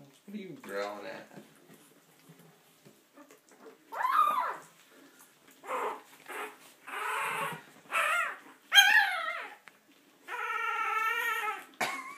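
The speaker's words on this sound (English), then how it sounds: "What are you growling at?" Young puppies with big woolly paws yip, whimper and growl in short bursts close by, several separate outbursts with a longer whining stretch near the end, while a person talks softly between them.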